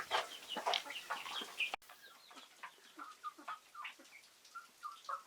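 Fighting-cock chickens on a farm cluck and chatter in short, busy bursts, several birds close by, the sound fluctuating steadily with no talking.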